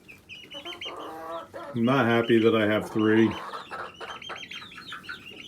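Backyard roosters cluck loudly in a burst of harmonic calls in the middle, with someone talking before and after them.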